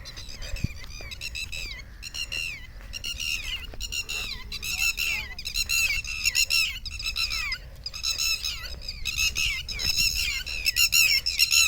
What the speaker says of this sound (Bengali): পাখির ডাক তো শোনা যাচ্ছে